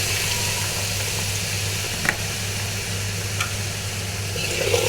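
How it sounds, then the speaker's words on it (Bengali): Mixed vegetables fry in hot oil for khichuri, a soft continuous sizzle with a few faint clicks of utensils, moderately quiet and steady throughout with no voices. "আমি এখন সবজিটা ভেজে নিব।"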